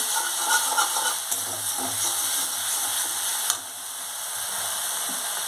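Spice paste for a fish curry sizzles and fries in a pan, with a steady broadband crackle throughout and occasional soft stirring scrapes and clinks, no talk.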